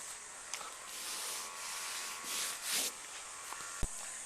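Sandpaper rubbing over resin on a catamaran pontoon makes a steady, soft hiss that swells in a few stronger strokes, close by and alone.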